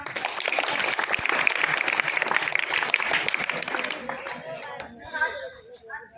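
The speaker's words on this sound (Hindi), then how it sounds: "तालियां बजाना।" A crowd claps loudly and steadily at a Hindi Diwas school celebration, then the applause thins out and fades while a few voices chatter underneath.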